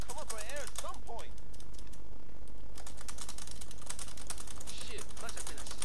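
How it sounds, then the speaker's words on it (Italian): Loud clacking of a PC computer keyboard, keys struck rapidly and the space bar hammered in quick succession, clattering over game sound from GTA San Andreas with a briefly heard voice. "spero che non sentiate il rumore della tastiera, perché sto facendo un rumore incredibile, perché qui dobbiamo essere veloci con a premere spazio"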